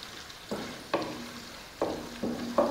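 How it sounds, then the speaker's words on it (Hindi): Onion fries in oil in a pan with soft sizzling and a few distinct scrapes and clinks of a stirring utensil at irregular intervals, close and fairly quiet, no voices. "ऑयल ले लिया मैंने, इसमें डाल दूंगी मैं ये प्याज"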